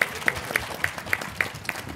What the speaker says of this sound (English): So clap for them now.